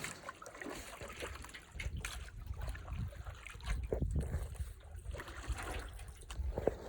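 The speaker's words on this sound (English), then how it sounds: "push forward with your canoe paddle" Canoe paddle pushing through water during a turn, giving a steady watery splashing and trickling with low rumbling wash, close and continuous for several seconds with no talk.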